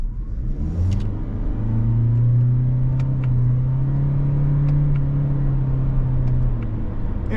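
A 2025 Toyota Corolla Cross Nightshade Hybrid accelerates in Sport mode, with a close, steady engine drone whose pitch rises smoothly and holds without distinct shift points, under light road rumble.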